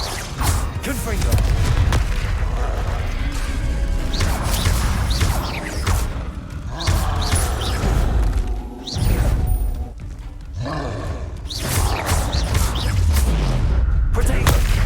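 Repeated Confringo blasting-spell explosions in Hogwarts Legacy: loud booms, whooshes and crashing impacts come one after another at close range, while a voice shouts spell names over the combat.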